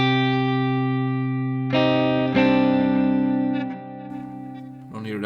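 Electric guitar played through the Neural DSP Archetype Petrucci with delay, reverb and shimmer: sustained chords ring out with shimmering trails and a few restruck strums.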